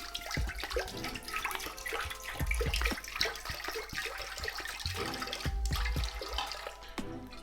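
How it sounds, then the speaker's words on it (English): Water pours steadily into a pan to start a no-boil mead, a continuous splashing, trickling stream close by with a few knocks and clinks, no talking. "I'm initially just going to add 1 litre of water"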